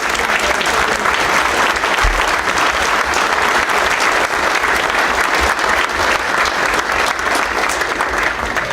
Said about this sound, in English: So I'd like to give them a round of applause.